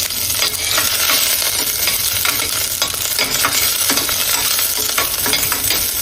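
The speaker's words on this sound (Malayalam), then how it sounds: "ഇതിലേക്ക് നമുക്ക് ആദ്യം തന്നെ നമ്മൾ എടുത്തു വെച്ച വെള്ളുള്ളി പച്ചമുളകും ഇട്ട് ഒന്ന് സോട്ട് ചെയ്യാം" Garlic and green chilli sautéing in hot ghee for a vegetable soup, a loud dense frying hiss with scattered crackles and utensil scraping, steady and close.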